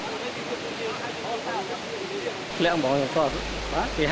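Rushing, steady broadband roar of a multi-tiered waterfall at Chilio in Cambodia, with a voice talking over it throughout.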